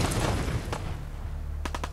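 A minigun fires in the video game Fallout 4 with a loud roaring wash of noise that thins out, followed by a few distinct sharp bursts near the end.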